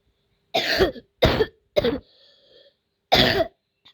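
Someone coughs several times in quick, harsh bursts, followed after a short pause by one more cough, close to the listener.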